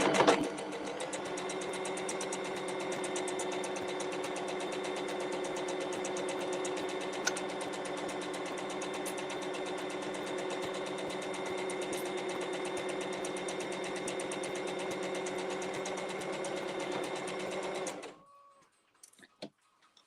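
A sewing machine stitching a wedding ring cushion runs in a steady, fast mechanical whir with rapid needle ticking for about eighteen seconds, close and clear, then stops, leaving only a few faint clicks.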